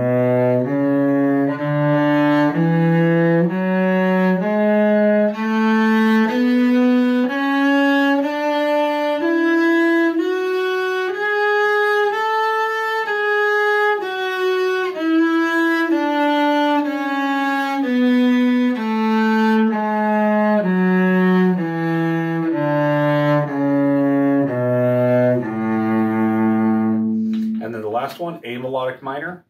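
A cello plays a Suzuki positioning etude, a steady stepwise line of bowed notes climbing and falling with shifts, rich and close. The run ends abruptly near the close.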